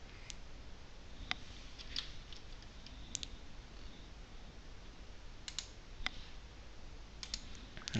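Sparse, faint clicks of a computer mouse and keyboard keys, isolated taps spaced a second or so apart over quiet background hiss.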